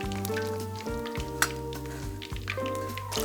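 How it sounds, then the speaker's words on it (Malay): Hot oil sizzles and crackles steadily as chicken deep-fries for ayam penyet, close up, under a background of tonal music. "Bila minyak dah betul-betul panas, boleh masukkan ayam perlahan-lahan."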